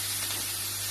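Butter sizzling in a smoking-hot pan with venison, a steady close hiss with no breaks, brief and even.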